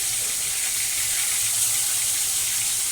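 Fish sizzling in a hot wok (karai) gives a loud, continuous hissing spatter that stays even and close for the whole stretch, with no voices.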